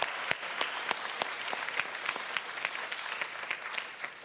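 Audience applause for the performer after a three-hour music performance, a steady patter of many hands with a few sharper close claps standing out, moderately loud and sustained throughout.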